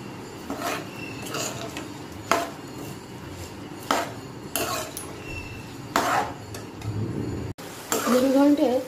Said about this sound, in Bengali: চালটা ভালো করে ভেজে নিই